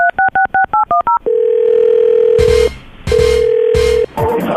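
A telephone dialing a call: a quick run of about seven touch-tone beeps, then two long ringback tones with a burst of other noise between them.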